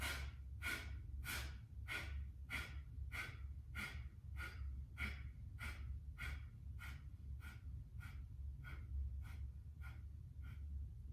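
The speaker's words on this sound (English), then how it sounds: "Take a nice deep breath in, and we breathe out." Slow, deep breathing in and out during a restorative yoga flow, a steady series of soft airy breaths repeating at an even pace over a low constant background hum.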